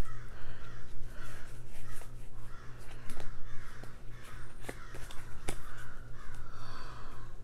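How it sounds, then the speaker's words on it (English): Crows caw repeatedly outdoors, a series of harsh calls spaced roughly every second or so over steady low background hum, with occasional sharp clicks and knocks nearby. "Dang crows."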